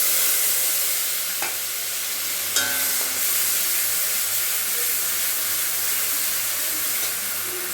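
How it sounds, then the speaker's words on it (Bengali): Onion paste frying in hot oil with whole garam masala spices and a bay leaf, giving a steady broad sizzle and hiss throughout, with a couple of brief utensil clicks near the start. "এটা গরম হয়ে গেছে, এবার দিয়ে দেবো পেঁয়াজ বাটা।"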